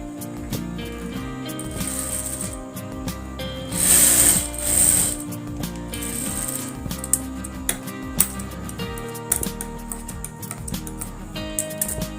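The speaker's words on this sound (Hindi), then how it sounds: "पलट के हम इस कपड़े को इस तरह से अंदर की ओर थोड़ा सा फोल्ड करके" A sewing machine stitches a folded-in edge of baby frock fabric, giving a steady mechanical chatter with clicks and ratcheting, plus a brief louder burst partway through.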